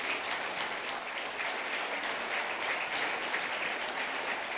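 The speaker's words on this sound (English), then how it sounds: "please give a big round of applause for England" A crowd claps steadily for England after the men's doubles final at the world doubles squash championships, with a continuous, even wash of applause and no voices.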